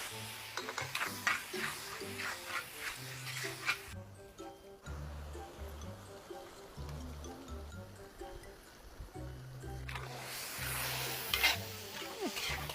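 Ground meat sizzles and gets stirred in a pan with onions for pansit malabon, a faint, continuous frying hiss broken by a quieter pause midway, with soft scraping stirs.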